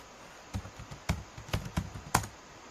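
Keys on a computer keyboard are pressed in a short, uneven run of about six distinct clicks, each clear and close, with quiet gaps between them.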